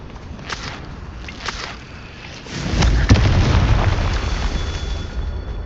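A Confringo explosion spell from Hogwarts Legacy erupts partway through, a deep rumbling blast with a sharp crack that lingers as a sustained roar, following quieter scattered pops and game ambience, with no talk.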